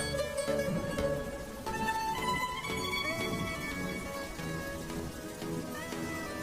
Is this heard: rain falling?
yes